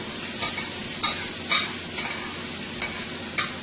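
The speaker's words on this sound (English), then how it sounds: "to the oil over here, we are going to add the remaining of our seasoning" Seasoning goes into hot oil with vegetables for chicken chow mein, giving a steady sizzle broken by about six short scraping stir strokes at a regular pace, close and moderately loud, with no talking.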